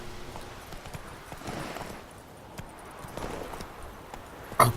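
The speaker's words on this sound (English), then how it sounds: "Jump, horse. Get out there." A horse gallops through the landscape of The Witcher 3 video game, hooves thudding in a faint, uneven rhythm over soft ground, with a sharp louder clatter at the end.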